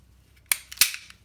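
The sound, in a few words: gun slide being racked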